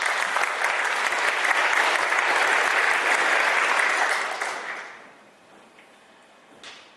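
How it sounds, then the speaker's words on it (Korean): A church congregation gives a round of thankful applause at a Sunday service, dense steady clapping that fades out after about four seconds, leaving a quiet room and one faint knock near the end. "우리 감사의 박수 한번 올리도록 하겠습니다"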